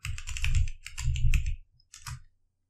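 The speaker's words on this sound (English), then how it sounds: "type in sudo reboot, enter your password" Typing on a computer keyboard, a close run of quick clattering keystrokes in two bursts, then a short pause and a final few taps, heard alone without speech.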